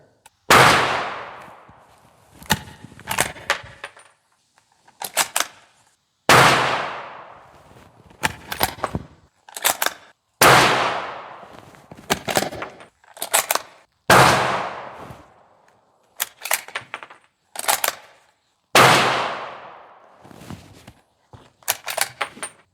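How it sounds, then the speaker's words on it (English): A Ruger American rifle with a 16-inch barrel fires five unsuppressed shots of 125 grain FMJ ammunition. Each loud, sharp crack rings out evenly spaced and is followed by metallic clicks and clatter from the action. "5 rounds unsuppressed 125 grain ammunition out of the Ruger American 16-inch barrel."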